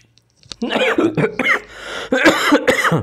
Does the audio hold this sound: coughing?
yes